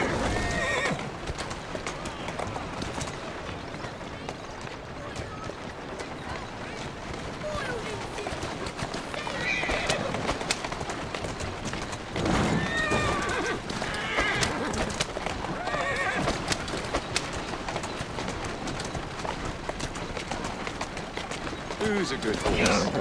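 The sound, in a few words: horse neighing and hooves, video game Assassin's Creed Syndicate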